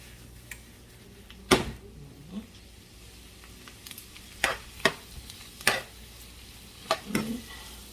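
A spoon stirs tomatoes into a pan of mushrooms over a quiet, low sizzle, with a few distinct scrapes and clunks spaced out over several seconds.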